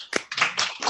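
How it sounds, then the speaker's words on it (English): Participants on a video call clap for a guest speaker at a Caribbean-themed culture and cuisine event, giving a short, close burst of several overlapping claps, loud and uneven, with no talking over it. "We want to give a big round of applause to Mary for being a wonderful guest speaker."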